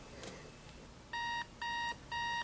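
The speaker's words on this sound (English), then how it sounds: "you test the alarm and show that working" A Scooby-Doo alarm clock under repair sounds three steady electronic beeps in a regular rhythm, each lasting about a third of a second, fairly quiet at its lowest volume setting, with no voices.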